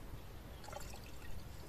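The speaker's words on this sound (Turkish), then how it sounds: "Normal paslı su gibi bir şey akıyor." Rusty water drains from the coolant reservoir of a Fiat Albea, a faint, continuous trickle and pour of liquid heard close by without any voices.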